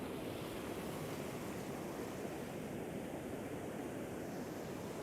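Sea waves washing against the coast at sunset make a faint, steady broadband rush that stays even throughout, with a hint of wind across the microphone.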